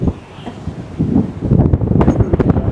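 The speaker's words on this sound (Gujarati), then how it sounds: "પવન જ એટલો જોરદાર છે ને" Strong wind buffeting the microphone on Rostock beach in Germany, low rumbling gusts that swell and grow louder in the second half, with no talk over it.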